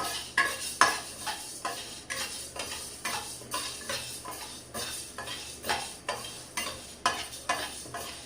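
White urad dal dry roasting in a pan for sambar powder, stirred in a steady rhythm: repeated scraping, rattling strokes roughly twice a second, close and clear, with no voices.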